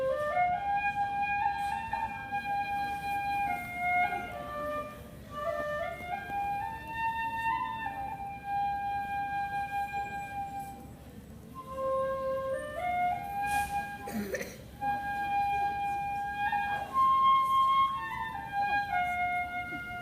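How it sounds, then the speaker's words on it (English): A shinobue, a Japanese bamboo flute, plays a slow lullaby melody of sustained, gently gliding notes over a faint background hiss. It sounds alone and steady, with a brief noisy knock partway through. "That was the sound of the shinobue."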